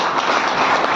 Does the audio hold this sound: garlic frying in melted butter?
no